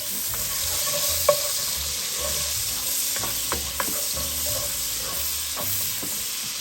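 Onions sizzle steadily in a hot pan, a constant bright hiss with occasional scraping stirs and light clinks.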